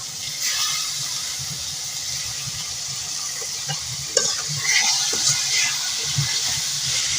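Fish dropped into hot oil and spices in a pan for a Bengali curry, giving a steady loud hiss and sizzle with scattered crackles and a few clinks of stirring.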